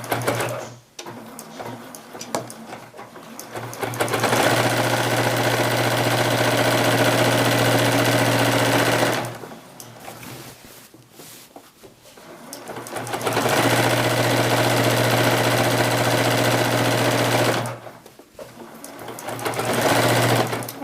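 A sewing machine runs loud and close while stitching quilt binding, whirring in two long sustained bursts, each about five seconds, separated by short quiet pauses, with a brief back stitch at the start.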